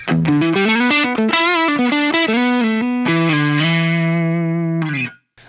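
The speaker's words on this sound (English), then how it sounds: "if I do single coil stuff, good old blues driver" Single-coil electric guitar on a clean amp channel, pushed through a Boss Blues Driver overdrive, plays a loud, gritty run of chords and notes that settles into a long sustained chord before cutting off, with no voice present.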